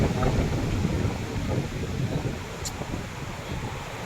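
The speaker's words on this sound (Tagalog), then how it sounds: "Pero malakas pa rin yung hangin guys." Strong wind on a beach in Boracay roars and buffets the microphone continuously, a loud rushing noise with a faint chirp briefly audible midway.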